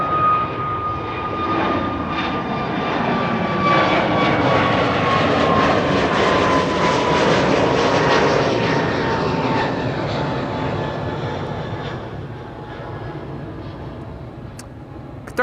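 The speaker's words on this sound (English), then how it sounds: "Transavia A321neo. In the meantime, taking off over here." A Transavia Airbus A321neo takes off from Schiphol's Kaagbaan runway, its engines building to a loud sustained roar with a whining tone, then slowly fading as it climbs away.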